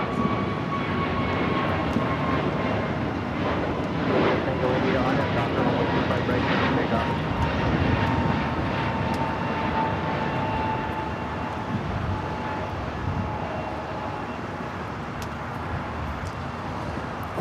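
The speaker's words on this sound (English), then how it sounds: "Alaska Airlines flight 1147 heading to Seattle, a 737 MAX 9 next takeoff here on the south side" An Alaska Airlines Boeing 737 MAX 9 takes off at Los Angeles International Airport, its engines giving a steady, fairly loud broadband roar that holds for the whole stretch, with someone talking over it.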